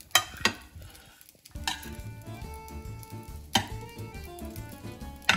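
Pasta aglio e olio being tossed with freshly grated cheese in a pan, giving soft stirring and scraping with a few sharp clinks of utensil on metal, moderately quiet and close.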